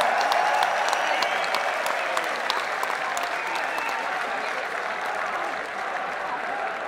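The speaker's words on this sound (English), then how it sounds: "please give yourself a big round of applause for coming out tonight" Large metal concert crowd at Oslo Spektrum, Norway, applauding and cheering after a song, a dense steady roar of clapping and shouts that holds loud for the whole stretch and eases only slightly near the end.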